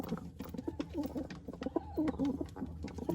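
Racing pigeons beside a nest of eggs give close, throaty coos in short repeated bursts over a light rustle of movement.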